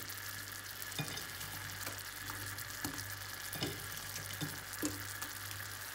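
Garlic and shallots fry in a hot pan with a continuous close sizzle, broken by soft scraping stirs and light knocks every second or so, and no talking.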